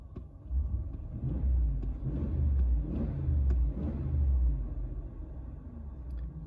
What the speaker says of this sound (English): Pretty quiet engine from inside the cab.